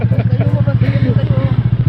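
Close motorcycle engine pulsing in a fast, even putter, loud and steady for the whole short stretch, with faint voices in the background.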